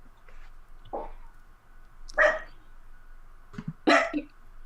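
A puppy lets out three short, sharp yips spaced a second or so apart, close by, over a faint steady background hum.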